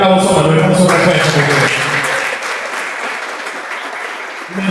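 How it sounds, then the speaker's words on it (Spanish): Audience at a football panel discussion in Guayana applauding, with a voice speaking at first and the clapping carrying on alone, slowly thinning toward the end. "yo voy a pedirte que le dé un aplauso a Manuel por su respuesta."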